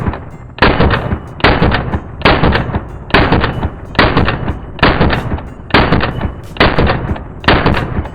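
PSA JAKL rifle firing eight loud, sharp shots at an even pace of roughly one per second, each with a short ringing decay, close and with no voices.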